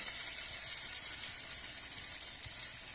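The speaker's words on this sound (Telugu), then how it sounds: "ఇప్పుడు నేను బజ్జీలు ఈ విధంగా మొత్తానికి ముంచేసి నూనెలో వేసుకోవాలి" Egg bajji dipped in batter frying in hot oil in a kadai, a soft, continuous sizzle with gentle bubbling crackle throughout and no talking.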